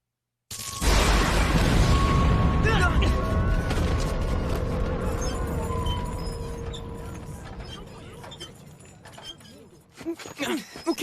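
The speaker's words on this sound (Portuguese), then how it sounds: "O que foi aquilo? Uma explosão?" An explosion in the Attack on Titan anime bursts in suddenly as a loud, close blast, then a long crumbling, rattling decay with scattered debris clinks fading over several seconds.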